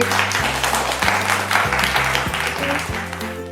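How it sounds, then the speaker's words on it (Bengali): A crowd at a family contest in a jewellery store gives team B a steady round of clapping, dense and continuous throughout, over a low hum of background music. "টিম বি জনের হাততালি"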